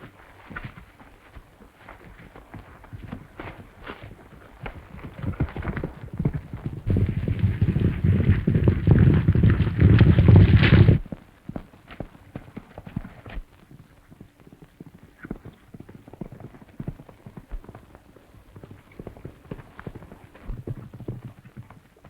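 Horses gallop in a 1935 western, hooves clip-clopping in a rapid continuous rhythm that swells loud and close mid-way, then drops back to fainter, sparser hoofbeats.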